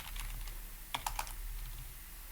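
A brief cluster of a few quiet keystrokes on a computer keyboard while writing Python test code, faint over a steady background hum.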